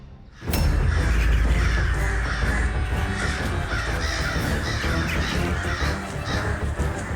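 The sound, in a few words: crows cawing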